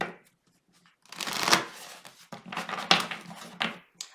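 Romance Angels oracle cards are shuffled by hand in quick, crisp riffling bursts after a quiet start, close and fairly soft, with no voice over them.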